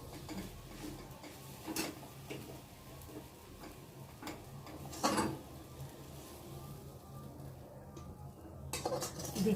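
Maggi-style chow mein noodles are stirred in a pan with a utensil, giving faint scattered scrapes and light clinks over a quiet kitchen background.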